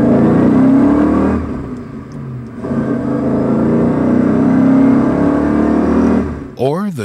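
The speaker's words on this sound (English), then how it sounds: "Listen to the excited song of a BMW engine as it accelerates." BMW car engine accelerating, its rising revving tone swelling loudly, dipping briefly, then building again before fading.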